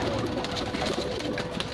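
Rampuri Kalsara pigeons in a loft give a steady, continuous low cooing that murmurs on throughout, close and moderately loud with no voices present.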